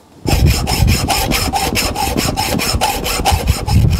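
A hand saw cuts through the excess piece of a Secuyou smart patio door lock in rapid, even back-and-forth strokes, loud and close, about a dozen rasping passes with no talk.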